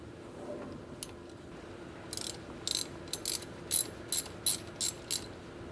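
A ratchet socket works nuts loose from the glow-plug relay on a 1995 Ford F-350 7.3L diesel, giving a series of about eight sharp, close ratcheting bursts in quick rhythm over quiet background.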